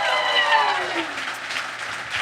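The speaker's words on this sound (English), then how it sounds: "Give yourselves a round of applause for making it out" An audience at a live podcast show in Charlotte claps steadily, a dense wash of applause with a few whoops, fairly loud and continuous before tapering slightly.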